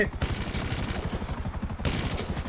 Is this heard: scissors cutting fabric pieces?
no